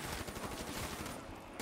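Rapid automatic gunfire in Call of Duty Zombies, a modded version, firing in dense, continuous bursts that fill the whole moment, loud and close with no talking over it.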